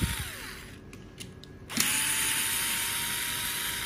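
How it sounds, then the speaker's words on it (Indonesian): A small powered driver whirs in short bursts while four screws are loosened on a Xiaomi portable electric air compressor, followed by a steady mechanical whine held close up, with no voices. "ada empat baut yang perlu kita buka ya dengan obeng kita buka ke empat baut ini"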